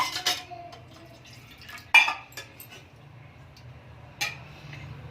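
Flour and water being mixed into mustard greens saag, with sparse metal clinks and scrapes of a spoon against the pot over a quiet background.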